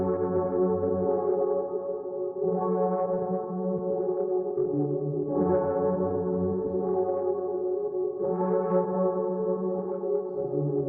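Dark, spacious ambient synth melody played on a Diva MK Frost Piano preset, sustained chords of rich layered tones swelling in phrases roughly every three seconds, steady and fairly loud with no voices.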